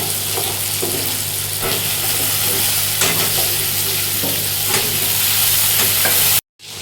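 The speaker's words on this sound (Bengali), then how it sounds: "আলুগুলো হালকা করে ভাজা হয়ে গেছে" Potatoes frying in a pan for a bitter gourd and bata fish curry give off a loud, close, even sizzle. Periodic stirring scrapes cut through it, then the sound cuts off abruptly just before the end.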